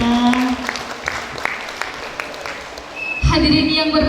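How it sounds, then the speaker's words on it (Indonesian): An audience at a children's graduation ceremony for abacus and mental arithmetic pupils claps in sparse, scattered strikes over some voice and tones, then a louder burst of crowd noise swells at the end. "Sekali lagi boleh kita kasih tepuk tangannya untuk anak kita."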